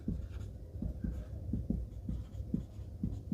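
A pen or pencil writes a number by hand on paper, giving faint, close scratchy strokes in a quick irregular rhythm, with no voice.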